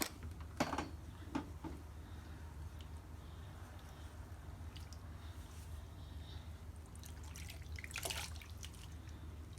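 Water dripping steadily from an old wig soaking in a basin of hot water, scattered soft drips and small splashes close by over a low constant hum.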